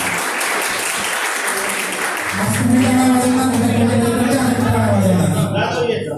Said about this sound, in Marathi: टाळ्या वाजवा, कंजूसी करू नका.